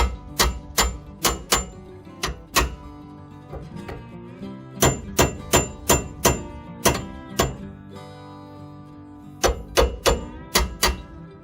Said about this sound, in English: we're going to hit this with a hammer a couple of times